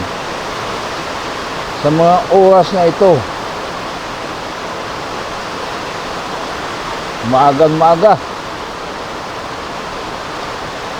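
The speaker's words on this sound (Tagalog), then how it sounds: "Kung naririnig nyo ang kaluskos ng ulan" Heavy rain falls before an approaching typhoon, a steady, dense hiss that fills the whole stretch, while a voice speaks briefly twice over it.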